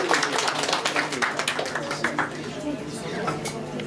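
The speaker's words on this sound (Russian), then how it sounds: "Кто-то аплодисменты." Scattered applause comes from a festival audience in a Kharkiv hall. A few separate claps stand out over a light room murmur, and a voice is heard talking.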